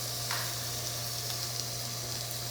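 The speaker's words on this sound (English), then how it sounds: "And you still want that sizzle when it hits the pan?" A cured duck breast sizzles skin-down in a hot pan, a close, steady hiss of frying fat with a constant low hum underneath and occasional small pops.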